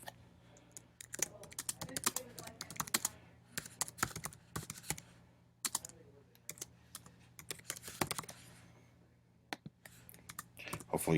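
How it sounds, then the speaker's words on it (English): Someone types on a computer keyboard, a close run of rapid, uneven key clicks in short bursts with brief pauses, fairly quiet, over a faint hum of room noise. "Hopefully you can type a little bit better than I can."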